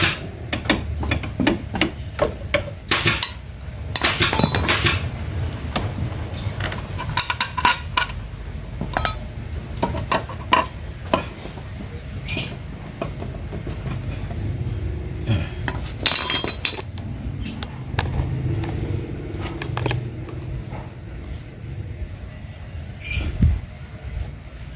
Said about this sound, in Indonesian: Kita pasang bautnya. Nah, kita pasang, nggak usah semua bautnya ya, kita pasang 4 cukup ya.